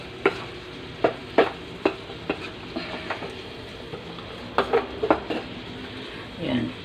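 A spoon stirs bitter gourd and catfish in a metal cooking pot, making sharp clinks and knocks in an uneven rhythm over a faint sizzle, close by.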